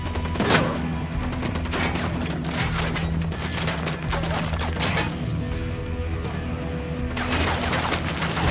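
Video-game gunfire from a sniper engagement in a Black Ops military shooter, with repeated loud shots and booms layered over a dense, continuous battle din and music-like drones.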